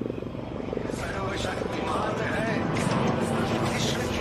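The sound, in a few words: light combat helicopter flying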